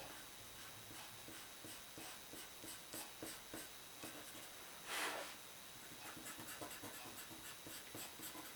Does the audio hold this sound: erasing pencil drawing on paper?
yes